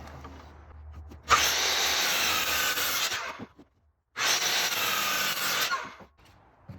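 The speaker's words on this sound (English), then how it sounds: "Then I come over to my big angry chop saw." A loud chop saw bites through wood in two separate cuts, each a sustained high whining rasp of a few seconds with a short pause between, recorded close up with no talking.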